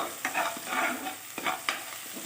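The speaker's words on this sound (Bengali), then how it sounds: "দিয়ে ভালো করে নেড়ে চেড়ে কষিয়ে নিতে হবে।" A spatula scrapes and stirs ginger and spices with vegetables in a sizzling pan for khichuri, several rhythmic close scraping strokes over a soft continuous fry, no talking.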